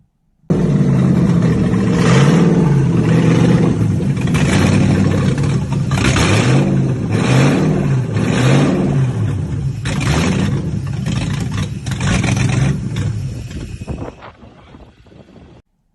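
Toyota 1UZ V8 on its first startup, cranking and catching before running loud and close with repeated rising revs over a lumpy idle, then cutting off.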